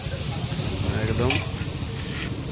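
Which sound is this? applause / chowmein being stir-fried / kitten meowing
chowmein being stir-fried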